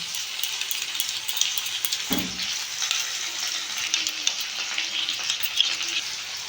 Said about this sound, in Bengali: টমেটো সস এটা আমি ভালো করে মাখিয়ে নেব